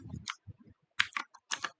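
Keys on a computer keyboard clack in quiet, uneven bursts of quick taps with short pauses between them, close and soft, with no voices.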